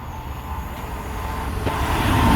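A Virgin Trains Class 390 passenger train passing Euxton Balshaw Lane, heard as a broad, steady rumble that grows louder as it draws near.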